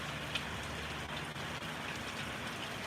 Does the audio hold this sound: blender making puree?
no